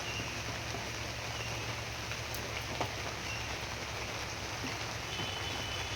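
Steady, soft rain falls outdoors as a continuous even hiss with a few faint drips, heard from a distance with no voices.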